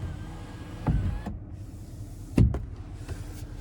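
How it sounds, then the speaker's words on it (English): The power roof on a 2024 GMC Sierra 2500 AT4X slides back with a one-touch motor whir inside the cabin, and two soft thumps mark the panel starting and stopping. "that's how far the roof goes back, and we can one-touch slide it back"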